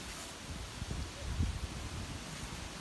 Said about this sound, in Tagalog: kita nyo yan o, malakas talaga ng hangin